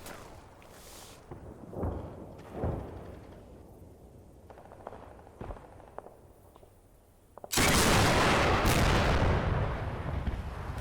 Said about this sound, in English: One of my men tries to engage it with an RPG-26.